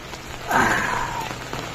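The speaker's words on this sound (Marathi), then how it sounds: "खूप पाऊस आहे" Heavy monsoon rain falls in Dahanu, a constant hiss of drops on surfaces with a brief swell of louder splashing in the middle, steady and close.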